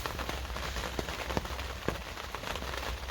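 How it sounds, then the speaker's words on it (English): Heavy rain with strong wind at a blustery outdoor camp, producing dense, steady hiss and drumming on a surface, with scattered sharper drop impacts and no talking. "It's pretty heavy wind, but it's pissing it down the rain."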